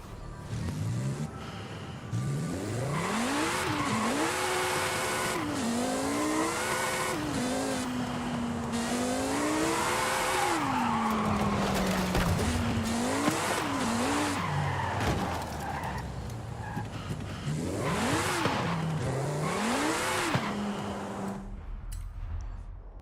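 A V8 hybrid twin-turbo car in Forza Horizon 5 revs and shifts continuously, its engine pitch rising and falling through repeated gear changes while tires squeal in drifts, loud and sustained.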